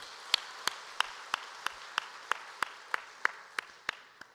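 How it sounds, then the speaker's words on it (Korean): Clapping in a church congregation during Sunday worship, a steady series of about a dozen sharp, evenly spaced claps over a soft background of wider applause, close and distinct. "영광의 박수 올려드리겠습니다."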